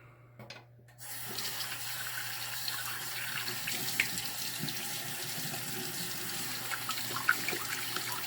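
Water runs from a bathroom tap for working up shaving soap, starting abruptly after a brief pause and then pouring in a steady, close, continuous stream with no talking.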